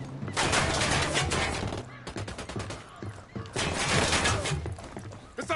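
Heavy bursts of automatic gunfire in the shooter Ghost Recon Wildlands, loud rattling volleys from several weapons with a short lull in the middle before the firing swells again.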